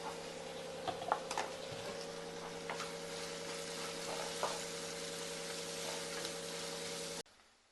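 Onions sautéing in a pan with turmeric and salt give a steady soft sizzle with scattered ticks and clicks of stirring, fairly faint and continuous, with no talk, cutting off near the end.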